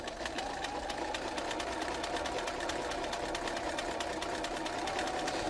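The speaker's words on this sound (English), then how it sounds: "I'm stitching over here until the edge of that foot meets that line" An old-style Bernina sewing machine with a ruler foot stitches continuously, its rapid, even mechanical whirring and clatter running close and steady with no talk.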